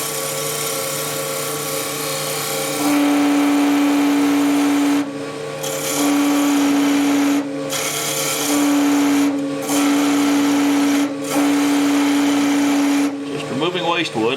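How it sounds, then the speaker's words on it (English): A wood lathe spins an end-grain goblet blank while a gouge removes waste wood, giving a steady motor whir with a tonal hum and repeated cutting passes broken by short gaps. "Just removing waste wood, a little bit of time."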